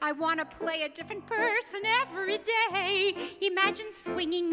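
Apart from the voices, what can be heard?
No everyday noise stands out behind the speech.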